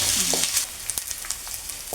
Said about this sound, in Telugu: ఇప్పుడు పెసరపప్పు వేసుకుంటున్నాను. పెసరపప్పు కూడా కొంచెం ఫ్రై అవ్వాలి.